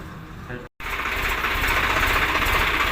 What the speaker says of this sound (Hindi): ट्रैक्टर निकल रहा है बाहर, गांव जा रहे हैं हम लोग।